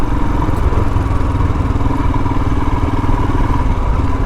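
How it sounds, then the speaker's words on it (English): Royal Enfield Himalayan motorcycle engine pulling under load while riding at low speed, a steady loud mid-pitched drone with constant rumble and faint clatter throughout, no voices. "this motorcycle has outstanding torque at low speeds. It just pulls and pulls and pulls"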